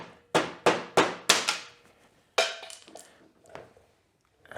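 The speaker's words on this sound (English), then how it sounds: "Let's go ahead and knock our emulsion tube out of here so we don't lose it later" Sharp metallic raps knocking the emulsion tube out of a Kawasaki KLX110 carburetor: four quick ringing taps in a row, then a pause and a few more scattered, quieter knocks close by.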